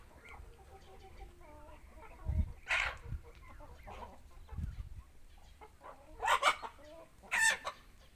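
Roosters and turkeys on a farm cluck softly and scattered, then break into several loud crowing calls close by, the last two coming in quick succession.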